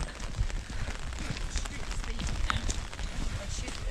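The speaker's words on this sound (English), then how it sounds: "Not fun coming out when it's raining." Steady rain patters onto an umbrella and the ground along a disused railway track between Grange Road and Rowfant, a continuous, close, moderately loud wash with scattered drops and footsteps.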